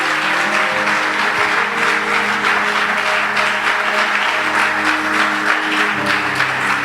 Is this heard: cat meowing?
no